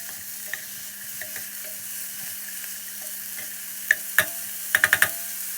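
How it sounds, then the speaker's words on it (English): Bacon and onions sizzle steadily in a frying pan, a soft continuous hiss broken by occasional clicks and a burst of sharp scraping taps near the end, with no talking. "I'm going to start off with fry my bacon and my onions until nice and golden"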